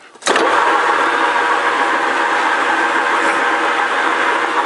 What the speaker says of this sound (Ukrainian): Ну що, зараз ми проточимо зверху. Включаємо.